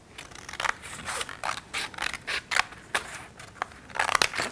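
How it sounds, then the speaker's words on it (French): Scissors snipping along the stem of a paper flower in a children's collage craft, a close series of crisp, irregular cuts and crunches with short pauses between them. "Maintenant, on découpe la tige."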